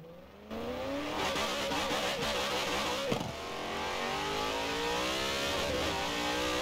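Zenvo TSRS engine in Forza Horizon 4 racing through a tunnel, a loud echoing engine rising through repeated revs and gear shifts, with a brief sharp shift burst midway, heard alone.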